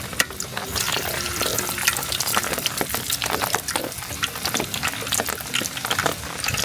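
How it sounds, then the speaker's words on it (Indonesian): Banana fritters sizzle and crackle in a pan inside a tent in a rainy forest while solo camping, a dense steady frying hiss with popping, close and loud, and no talk. "kita goreng di tenda aja"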